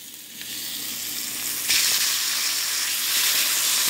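A Salisbury steak sizzles loudly in a pan. The dense, hissing fry swells suddenly partway through and then stays strong to the end, with no talking.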